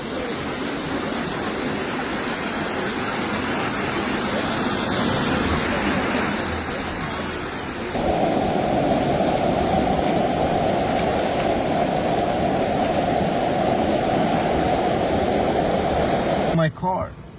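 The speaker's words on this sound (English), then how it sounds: "There's really waves on the road right now" Flood water surging in waves across a road during tsunami-like flooding in the New York and New Jersey area, a loud continuous rushing wash that swells and shifts midway, close by and steady.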